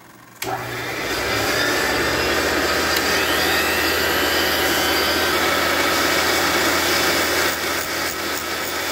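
A valve grinding machine kicks on abruptly and runs with a loud, steady whirring grind on a Fordson E27N tractor engine valve, coolant hissing beneath it, continuing without speech.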